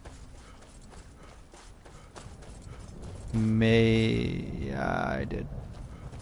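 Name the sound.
horse hooves and whinny in video game Skyrim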